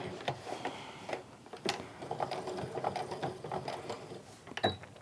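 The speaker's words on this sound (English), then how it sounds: "I'm just sewing right around that rectangle that I drew around where everything is going to be" Quiet, close stitching from a sewing machine running around a rectangle on a fabric wallet, with soft rapid ticking and irregular mechanical clicks throughout and no voices.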